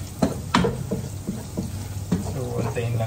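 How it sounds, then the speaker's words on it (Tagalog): Garlic frying in melted butter, a steady sizzle broken by several sharp utensil scrapes and clinks as the pan is stirred. "Pag nasaw na yung ating butter, pwede na natin lagay yung ating garlic"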